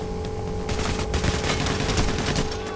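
Rapid bursts of automatic gunfire crackle in a Payday The Heist firefight, dense overlapping shots rattling loud and continuous over a steady hum.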